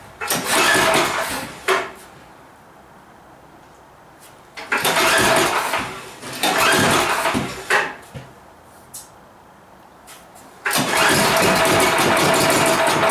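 An old snow blower engine that sat unused for a long time sputters in loud, rough bursts lasting a couple of seconds each, dropping back to quiet between attempts.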